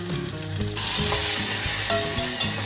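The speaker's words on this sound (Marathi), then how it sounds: "मग एक छोटा चिरलेला टमॅटो घाला" Chopped tomato fries in a pan for bombil curry with a loud, continuous sizzle that swells after the first moment, punctuated by stirring scrapes.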